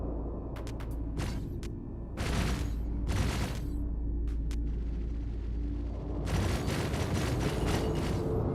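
Explosions boom and rumble in a space video game: several sharp bursts and a rolling blast, followed by a sustained roar over a constant low drone.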